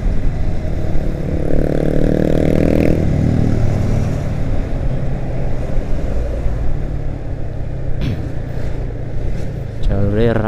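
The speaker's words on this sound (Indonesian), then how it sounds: "banyak kendaraan roda 4 ya" Busy street traffic on a road in Wonogiri, Indonesia, with many cars and motorcycles, engines droning and revving steadily close by, a horn-like burst near the end, with people talking over it.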